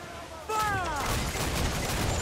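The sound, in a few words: cannon broadside firing on a ship in Assassin's Creed IV video game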